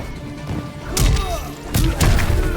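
Punches and kicks land in Mortal Kombat 11 as heavy thuds and crunching impacts, two main clusters of hits close and loud over a busy game soundtrack.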